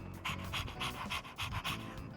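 A dog in the video game Persona 3 Reload pants quickly and rhythmically in short, even breaths. The panting is close and fairly quiet, with no voices over it.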